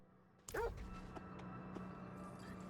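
A pet dog in the Diablo IV game gives a single short bark, close and clear, over a steady low game hum.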